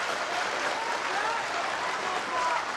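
Snooker spectators applaud a great pot at the 2017 Shanghai Masters final between Ronnie O'Sullivan and Judd Trump, a sustained wash of clapping from the arena crowd with a voice faintly over it.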